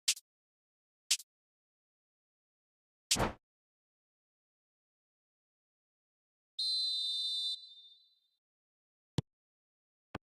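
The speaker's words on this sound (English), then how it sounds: "There's the whistle then to start the second half." A referee's whistle in the eFootball game blows a single steady, piercing tone for about a second, then trails off amid silence, with a few sharp isolated clicks before and after.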